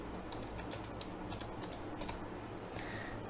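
A computer keyboard is typed on in a quick, steady run of soft clicks, close and continuous over a dense background hiss, with no voices.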